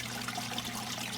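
Water draining out of a hydroponics cup filled with washed clay pellets, a steady soft trickle and gurgle running continuously at close range with no talking.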